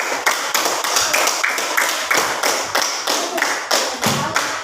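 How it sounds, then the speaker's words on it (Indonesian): A classroom group claps together for a student group, a loud, close, rhythmic unison clapping pattern with evenly spaced beats repeating steadily throughout, no talk. "Tepuk tangan dulu untuk kelompok hutan."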